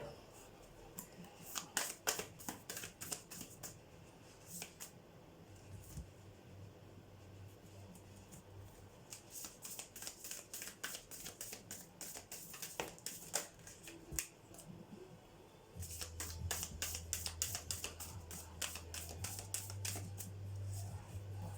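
Tarot cards are shuffled in rapid, crisp riffling flutters, heard close in several bursts with brief pauses between them, over a faint low background rumble.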